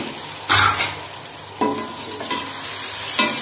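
Peas, potato and carrot are lightly fried and stirred in a pan for vegetable pulao, giving a continuous close sizzle broken by a few louder scrapes of stirring.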